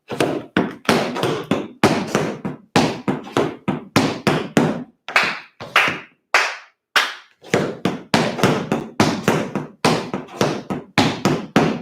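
Tap dancing steps (scuffs, heels, steps and slanks) in a tap class, a rapid run of sharp, close percussive taps in rhythmic bursts with brief pauses between phrases.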